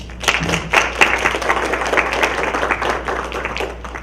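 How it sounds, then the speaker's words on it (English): Applause and clapping from the audience at a Fairburn judicial candidate forum honoring the judges, a crowd of hands clapping steadily and fairly close, with a brief voice near the start. "Let's give them a round of applause."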